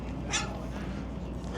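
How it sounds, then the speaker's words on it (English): A small dog yipping near Boston Harbor at evening, one brief high yip standing out over steady low outdoor rumble and ambient noise. "It's always the little dogs that want to be yippy."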